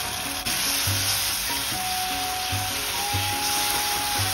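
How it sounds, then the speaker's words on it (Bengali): Onion with spices and ginger-garlic paste sautéing in hot oil for street-style keema ghugni, a steady close sizzle with soft scraping stir strokes repeating throughout, no voices. "কষাতে থাকবো সব কিছু।"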